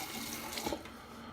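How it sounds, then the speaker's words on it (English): Tap water runs steadily into a sink as a razor is rinsed under it, a short, quiet, continuous splash with no voices. "Clean it up with some water."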